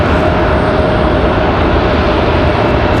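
A loud, steady roar from a Copa Airlines airliner departing Raleigh-Durham International Airport. The sound is dense and unbroken throughout, with no talk.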